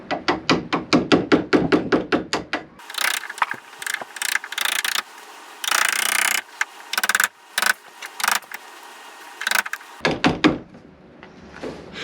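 Chisel struck repeatedly with a hammer while fitting a door knob into a wooden door: a rapid run of sharp close taps, then scraping, clicking and knocking as the hardware is worked, ending with a few more taps.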